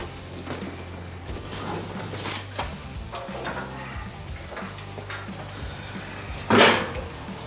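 A dust collector being flipped over by two people during assembly in a small shop: scattered hollow metallic clunks and scrapes, ending in one loud bang as it settles.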